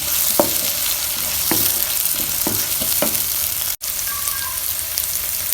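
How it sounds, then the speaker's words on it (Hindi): Steady sizzling of green chillies frying in a hot pan for masala pasta, with several scraping stirs of a spoon at irregular intervals. "सब्ज़ मिर्च ऐड करेंगे, हिलाएंगे इसे।"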